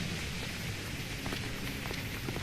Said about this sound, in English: It's just a drizzle. It's an intense drizzle.